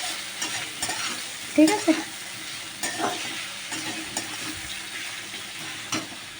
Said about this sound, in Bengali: পেঁয়াজ দিয়ে আবার এটাকে ভালো করে নাড়বো, মানে ভাজবো আর কি, যাতে পেঁয়াজটা ভাজা ভাজা হয় বা একটু মজে যায়